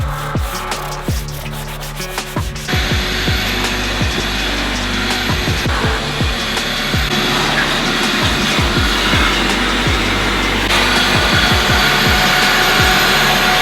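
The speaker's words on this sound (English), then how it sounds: "Bobby did her thing in the interior with the vacuum cleaner and her special sprays for the dash" Vacuum cleaner working inside a neglected Honda Civic Type R, a loud continuous motor whine with repeated scraping and rubbing strokes as the nozzle moves over the interior surfaces.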